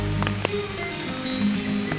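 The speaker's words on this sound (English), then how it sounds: "This rain's pretty bad" Heavy rain pours steadily on surfaces outdoors during a whitetail deer hunt, a dense continuous patter with a few louder drops, no talk.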